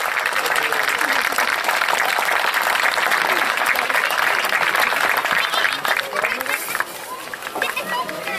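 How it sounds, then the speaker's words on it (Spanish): A dense, loud burst of audience applause at a Chilean rodeo club event in Chonchi, sustained for several seconds with crowd noise and faint voices mixed in. "Reiteramos nuevamente los aplausos de todos para el presidente actual de este Club Borromeo."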